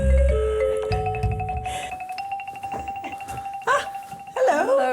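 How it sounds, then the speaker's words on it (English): A hotel reception service bell rings in a quiet lobby, its clear sustained tone hanging for a few seconds, with a second brighter ding near the end and some low voice murmur early on. "And I have to ring 2 bells in order to get service."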